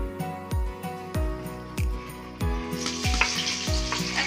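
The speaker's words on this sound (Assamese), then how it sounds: "ইফালে আকৌ মায়ে কবি ভাজিয়া বনাই আছে" Cabbage fries in oil in a pan, a steady sizzle broken by several sharp, regular knocks of a spatula stirring and scraping, close and moderately loud with no talking.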